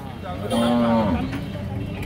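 A cow lets out a single loud, drawn-out moo at a cattle farm in Cumilla, close by over low background murmur.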